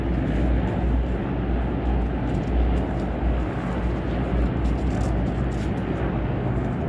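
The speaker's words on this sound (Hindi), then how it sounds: "बहुत बड़े तादाद में हेलीकॉप्टर उड़ रहे हैं" A large number of helicopters pass overhead, their combined engine roar forming a thick, unbroken low rumble at constant loudness.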